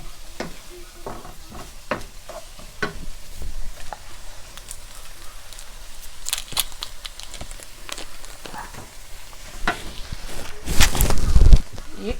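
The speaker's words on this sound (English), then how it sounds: "I'm gonna add a stick of butter into this" A stick of butter dropped into a hot pan of garlic, habanero pepper and ginger, with scattered stirring clicks and rising sizzle, ending in a louder burst of crackling near the end; close, no talk.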